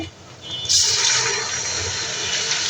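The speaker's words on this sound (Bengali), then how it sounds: "এখন হচ্ছে দিয়ে দিব সামান্য পরিমাণ পানি।" Water splashes into a hot frying pan of browned onions with a sudden rushing hiss that settles into a steady sizzle.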